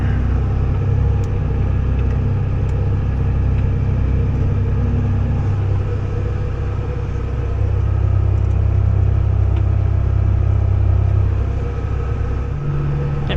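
Deep, steady engine rumble of a New Holland TG285 tractor pulling an International 700 plow through an organic flax field, loud and close with a constant low drone that dips slightly midway.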